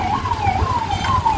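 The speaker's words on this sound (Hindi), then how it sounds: "पुलिस वगैरह की हॉर्न बज रही" A police siren wails nearby in a village at night, its loud wavering tone sweeping up and down continuously over an engine rumble.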